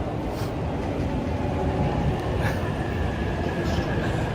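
A train rumbles past in Shinjuku, Tokyo, giving a steady, loud, close roar of rolling wheels that lasts throughout, with faint sounds of people nearby.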